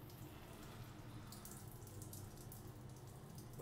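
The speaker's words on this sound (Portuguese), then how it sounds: "Deixa eu ligar aqui que vai sair bastante água." Water spraying steadily from a small nail hole in a plumbing pipe inside a wall, a continuous close hiss and splash with no talking.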